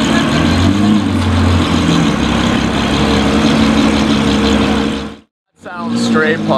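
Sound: straight-piped exotic sports car exhaust at Gumball 2022

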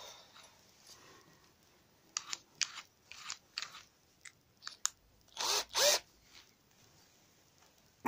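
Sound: screwing a screw back into a fence post

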